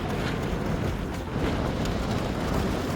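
Steady wind blows across an outdoor sledding hill in winter, a continuous loud rushing roar buffeting the microphone for the whole stretch with no voices over it.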